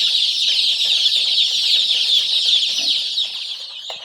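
Young chicks being fed in a warm, heated indoor brooder chirp in a dense, continuous high-pitched chorus of many overlapping peeps, steady and close throughout.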